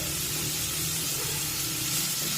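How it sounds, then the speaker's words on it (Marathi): Onion sautéing in a pan over a medium gas flame makes a dense, continuous close-up sizzle and hiss with no pauses and no talking. "कांदा परतून घेऊया यावेळेला गॅसची फ्लेम ही मध्यम ठेवली तरी चालेल"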